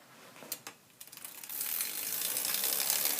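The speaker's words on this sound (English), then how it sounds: "Do a hub sound and a drop test." Bicycle rear hub freewheel, a few sharp clicks and then a fast continuous ratcheting buzz as the wheel spins freely, close and fairly loud.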